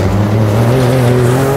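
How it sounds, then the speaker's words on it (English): Ford Raptor trucks, one fitted with a trophy truck exhaust, roar around an outdoor dirt track with a loud, steady, close engine drone and rising revs and no talk. "we've got trucks going like every 30 seconds"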